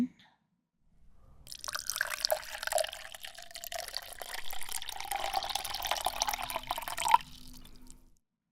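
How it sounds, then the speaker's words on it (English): Water pours steadily from a tilted bowl into a flower arrangement, a soft close trickle and splash that runs for several seconds in a quiet room and ends with a small drip. "I'll tilt it to the side and let the water pour in."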